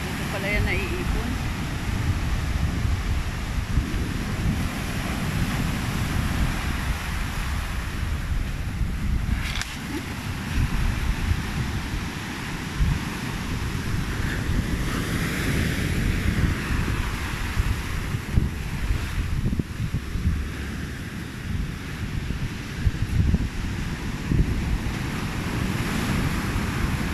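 Big ocean waves roll onto a shore littered with driftwood and debris from a river, a continuous loud roar of surf with repeated surges, heavily mixed with gusty wind buffeting close to the microphone.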